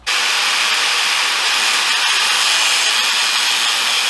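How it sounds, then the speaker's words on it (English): An angle grinder smooths the cut ends of steel trailer beams for a kids' tractor trailer, a loud, constant high-pitched whine with harsh grinding hiss that starts abruptly and runs without pause. "Now I'm just gonna use a simple little grinder to grind this down, get it smooth"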